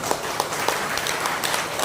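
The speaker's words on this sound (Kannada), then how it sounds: "ಜೋರಾಗಿ ಒಂದು ಚಪ್ಪಾಳೆ ಕೊಟ್ಬಿಡೋಣ" Crowd applause at a Kannada public gathering, a dense steady patter of many hands clapping at moderate level with no talk, lasting the whole short stretch.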